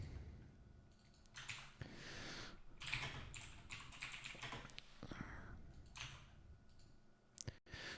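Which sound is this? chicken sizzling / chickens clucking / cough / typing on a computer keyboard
typing on a computer keyboard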